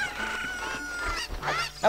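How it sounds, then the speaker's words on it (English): Cucco chickens in The Legend of Zelda: Ocarina of Time at Lon Lon Ranch cluck and squawk in short, bright, game-style bursts, close and fairly loud over a soft background. "you can actually target these chickens"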